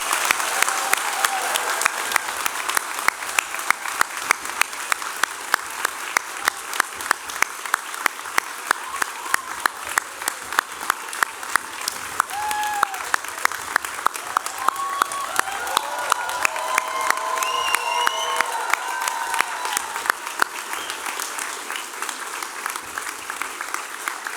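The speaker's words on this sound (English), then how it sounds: "if everybody could join me in a round of applause for our amazing graduates" A convocation audience gives graduates a long, steady round of applause, dense clapping filling the hall from start to finish with faint crowd voices and a few cheers mixed in.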